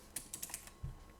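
Quiet typing on a computer keyboard, a short burst of several light clicking keystrokes heard alone without any talk.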